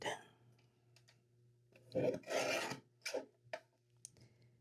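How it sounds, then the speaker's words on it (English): A Tim Holtz guillotine paper trimmer slices a thin sliver off the edge of a card, giving a couple of short rasping cuts close by against a quiet room. "that is the one thing I love about this Tim Holtz guillotine. I can take off just a minuscule amount"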